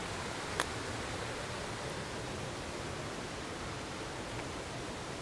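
Pala U waterfall in Hua Hin, a steady broadband roar of rushing water that fills the whole stretch evenly, loud and close, with one faint click near the start and no voices.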